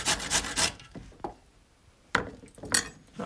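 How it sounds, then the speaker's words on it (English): Root vegetables rasped against a grater for a ferment, several short scraping strokes in two bursts separated by a quiet pause, close and fairly loud. "And then I'll grate."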